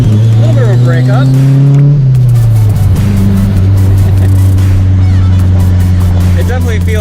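A 1984 Nissan Skyline R30 engine drones loudly while driving, revs climbing through a gear then dropping and settling into a steady cruise, heard from inside the car with voices talking over it.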